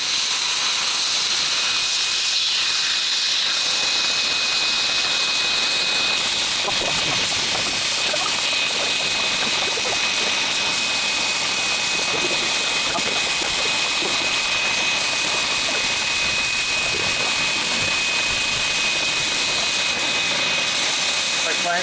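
A motorised cutting beetle carries a cutting torch along the steel hull of a blown-up KV-1S tank, giving a loud, continuous roaring hiss with a thin steady whine running the whole way through.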